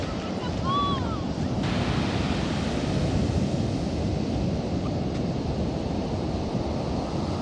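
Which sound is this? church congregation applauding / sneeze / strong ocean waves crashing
strong ocean waves crashing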